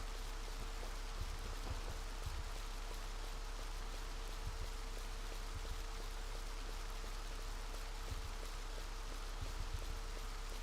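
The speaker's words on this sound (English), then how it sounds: "It was so sunny and nice looking here, and now it's pouring rain." Pouring rain in the video game Final Fantasy XI, a dense, even hiss of falling rain with scattered drop patter, continuous and steady throughout with no voices.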